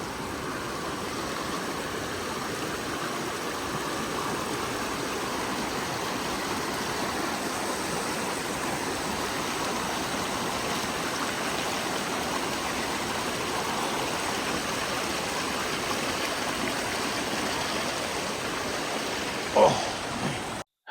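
Creek water rushes in a steady broadband roar on a backcountry trail, continuous and close for the whole stretch, with a brief knock near the end.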